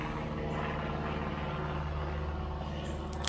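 A fixed-wing airplane passes overhead above a front yard garden, a steady low engine drone that holds evenly throughout, moderately loud with no voices.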